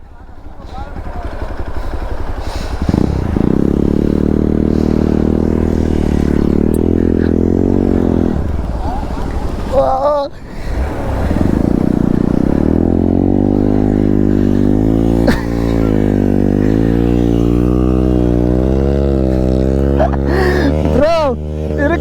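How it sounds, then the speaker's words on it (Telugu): A Hero Xpulse 200 4V motorcycle stuck in beach sand is revved repeatedly, loud close engine surges rising and falling in pitch, mixed with voices talking. "ఓ బైక్ అయితే ఇరుక్కునేసింది"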